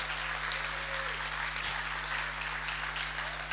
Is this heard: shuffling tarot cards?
no